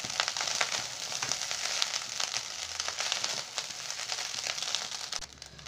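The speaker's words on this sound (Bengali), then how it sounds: "এগুলো আমি খুব সুন্দরভাবে মিক্স করে নেব ভাতের সাথে।" Vegetable fried rice sizzles steadily in a hot pan as cashews and raisins are stirred in, a constant crackling fry with faint scraping, close and even throughout before easing off at the end.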